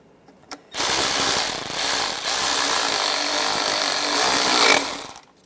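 A power tool runs down a bolt on a bracket in the engine bay of a 1996-2002 Toyota 4Runner during valve cover gasket work, a loud, close, sustained buzzing whir lasting about four seconds with brief dips.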